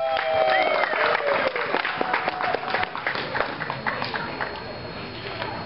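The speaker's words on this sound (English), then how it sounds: "so give Ryan Adams a round of applause on that" A crowd at a fireworks product demo applauds, loud scattered clapping at the start that thins and fades over several seconds, with a few louder individual claps.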